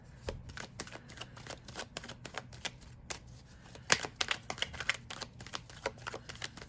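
Tarot cards being shuffled and drawn, heard as quiet, uneven riffling clicks and soft slaps of card on card, close by and with no talking.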